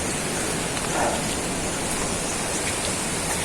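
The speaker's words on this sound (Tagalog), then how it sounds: "May tubig na bumabaybay sa mga bato-bato." Water trickles and runs over rocks near Depalyon Falls in General Nakar, Quezon, a steady, close, hissing wash of flowing water with no pauses.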